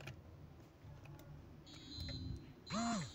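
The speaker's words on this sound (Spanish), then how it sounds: "ahí nos puede detectar la seguridad, ahí se escucha la alarma" Security alarm tones in a Roblox video game: a sustained electronic tone, then a louder sweeping beep near the end, under low background noise.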